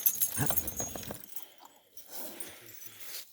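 A stallion's hooves clop and it snorts briefly at close range, then fainter shuffling and rustling follow outdoors.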